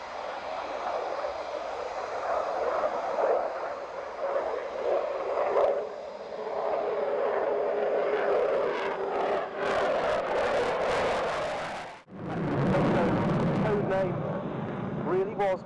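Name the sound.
Sukhoi Su-27 Flanker jet flying display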